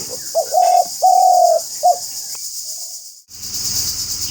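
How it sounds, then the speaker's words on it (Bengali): Close, clear dove coos come in a short run of soft hooting notes, then fall silent before faint background noise returns. "ঘুঘু পাখির ডাকটা কি যে ভালো লাগে।"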